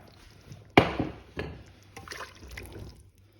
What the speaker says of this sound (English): I'm actually going to add another wee 500 ml of water